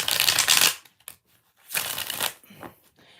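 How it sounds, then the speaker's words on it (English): Tarot cards are shuffled by hand in several bursts of crisp riffling and flicking, near and fairly loud, separated by brief pauses. "So 6 shuffles."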